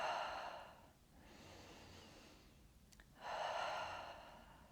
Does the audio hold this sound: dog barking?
no